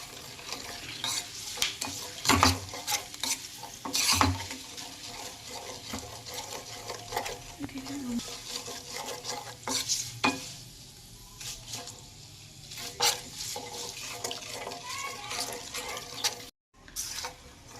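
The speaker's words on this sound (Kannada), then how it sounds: "ಆ ಕರಿಬೇವಿನ ಅಂಶ ಕೂಡ ಆಯಿಲ್ಗೆ ಹಿಡಿಬೇಕು ಅದಕ್ಕೆ ಸಿಮ್ಮಲ್ಲೇ ತಿರು ತಿರ್ಸ್ಕೊತಾ ಇರೋ ಈ ಥರ ಬಾಡಿಸ್ಕೊತಾ ಇರಬೇಕು ಆಯಿಲ್ನ" Curry leaves are stirred in simmering herbal hair oil in a pan. A spoon scrapes and clatters repeatedly over a steady frying sizzle, with a few louder knocks throughout.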